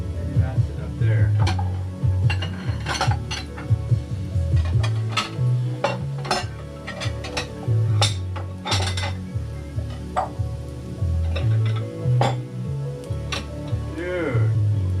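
Bowls and dishes clink and clatter while someone rummages through a kitchen for ramen bowls, with scattered sharp knocks of ceramic and cutlery over a steady low hum, a voice talking now and then.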